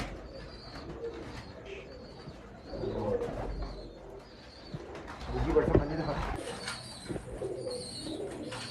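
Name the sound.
Sialkoti pigeons cooing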